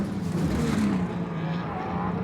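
Off-road race trucks at Primm roar through a TORC Pro 2 race, a loud continuous engine drone with a pitch that swells and eases as trucks pass, steady throughout.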